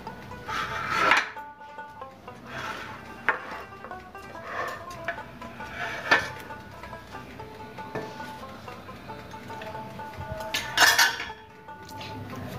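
Eggless vanilla cupcakes are demolded from a metal baking tin, with intermittent clanks, clinks and scraping knocks of metal on a counter, close and fairly loud, including a sharper rattle near the end.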